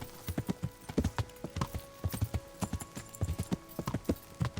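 Horse hooves clip-clop at a steady walking rhythm in the video game Kingdom Come: Deliverance, close and distinct, with a faint tonal background hum and no talk.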